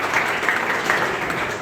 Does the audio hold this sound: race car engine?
no